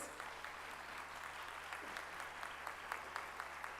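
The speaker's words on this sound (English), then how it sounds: "Let us have a big round of applause." An audience at a formal inaugural event in India claps for the Defence Minister, faint and scattered with individual claps audible over a low steady hum.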